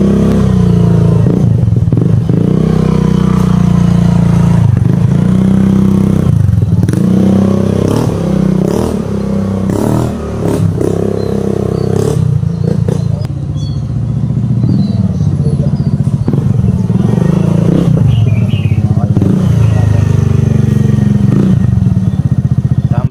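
A Suzuki Burgman 125 scooter fitted with an aftermarket Akrapovic muffler rides on a test drive, its exhaust droning loud and steady throughout with engine rises and dips and occasional rattles.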